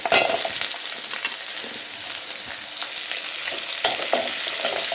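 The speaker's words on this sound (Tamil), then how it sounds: "இப்போ இதில் வந்து நம்ம வெங்காயம், சின்ன வெங்காயம் இதெல்லாம் போட்டுக்கலாம்." Onions and small shallots frying in hot oil for a wedding-style brinjal kuzhambu, a dense continuous crackling sizzle with occasional stirring scrapes, close and steady.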